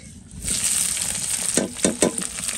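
Chopped onion and chili fry in a pan with cinnamon, cardamom and cloves, giving a close, continuous sizzle broken by a few sharp scrapes and stirring crunches near the end.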